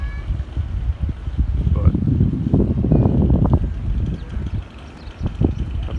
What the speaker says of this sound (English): And there's some wind, which is also great.